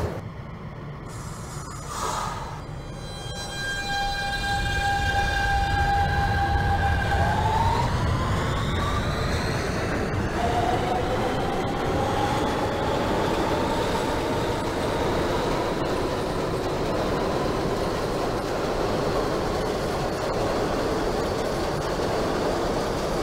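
Simulated Siemens R160B subway train on the Q line in OpenBVE, a rising electric motor whine that climbs in pitch over steady rail rumble as the train accelerates, continuous and close, no talk.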